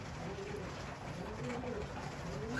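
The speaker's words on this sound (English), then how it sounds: "Here I am checking in on these little birds." Pigeons coo softly in a loft where a hen sits on hatching eggs, a low steady murmur of cooing over a continuous noisy background.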